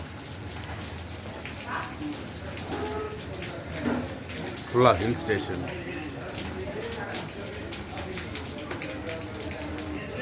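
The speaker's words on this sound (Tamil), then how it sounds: "மழை பெய்ந்து கொண்டே இருக்கிறது" Steady rain pattering at a hill station near Kollur, a continuous soft hiss close around, with someone talking over it.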